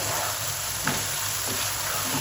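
Potatoes fry in a yogurt masala with a dense, steady sizzle and a single soft utensil tap partway through.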